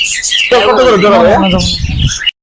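A pair of cockatiels chirp and squawk in a bird shop, with bright, close calls rising and falling over about two seconds, mixed with nearby voices.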